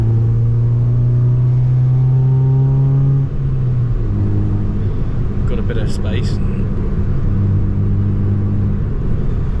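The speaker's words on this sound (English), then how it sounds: "We'll just give you some revs now" A tuned Nissan Micra K11 engine idles, then is revved several times, rising and falling close by while someone talks over it.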